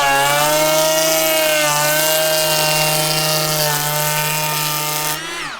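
A Makita 18V XPK02Z cordless planer cuts across deck wood with a loud, steady high-pitched whine and rough shaving noise, holding for several seconds before the motor winds down at the end.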